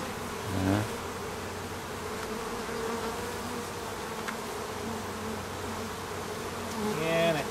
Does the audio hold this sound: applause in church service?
no